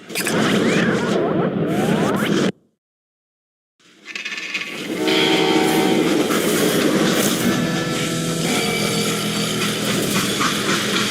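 Freight train in the Call of Juarez: Gunslinger video game rumbling and clattering loudly along the rails, cutting out briefly to silence before the heavy rolling noise returns and continues steadily.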